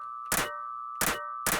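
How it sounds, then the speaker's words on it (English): A clanky metallic percussion sample built from scratch, three sharp clanging hits in uneven rhythm, with a sustained ringing tone holding between them, close and clear with no talk. "So there's that ringing sound here that we want to turn down."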